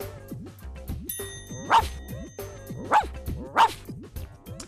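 A cartoonish dog sound effect barks three times over a bouncy musical backing with plucked, sliding tones.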